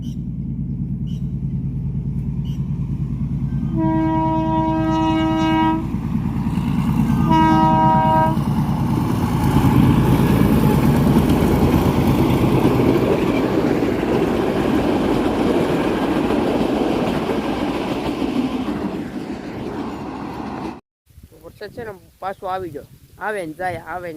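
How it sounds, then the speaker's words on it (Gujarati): A train rumbles past nearby with a loud, steady roar, its horn sounding twice early on; the noise cuts off abruptly near the end, leaving brief fluttery sounds. "ટ્રેન આવી ગઈ છે"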